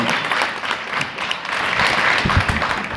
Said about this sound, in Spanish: en este momento pido un aplauso